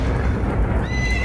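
Horses neigh in an animated Hindi moral story, near a royal stable where the animals are hurt by fire: a loud, continuous shrill whinny over a dense, rumbling backdrop with hoof-like clatter and no speech.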